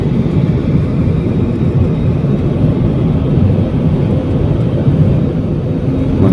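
Steady, loud low-pitched roar inside the cabin of an IndiGo Airbus A320 approaching to land at Goa, continuous and unbroken throughout with no voices.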